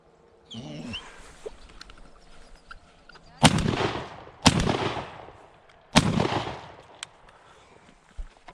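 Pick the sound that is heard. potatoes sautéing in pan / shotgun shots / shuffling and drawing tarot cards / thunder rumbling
shotgun shots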